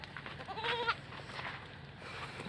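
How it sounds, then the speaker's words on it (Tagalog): Raised goats on a farm give one short, clear bleat over steady background noise. "Chikan na natin tong ating mga alagang kambing."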